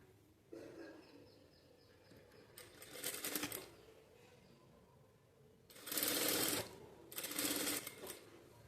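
A sewing machine stitching a blouse at the neckline, running in three short bursts of rapid, even whirring and clatter, close and fairly quiet, with pauses between runs.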